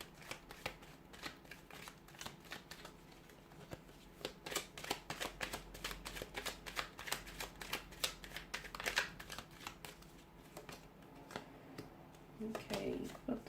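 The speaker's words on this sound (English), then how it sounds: "we'll give the cards a shuffle" A deck of tarot cards shuffled by hand, with a long run of quick riffling flutters and soft card slaps, close and steady, and a little movement near the end.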